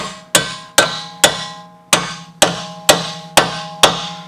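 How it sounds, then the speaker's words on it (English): Eight evenly spaced hammer taps on metal, tapping Chevy Impala rear strut bolts into their splines, each a sharp ringing strike that decays quickly, steady and close with no talking. "We can tap these in with a hammer."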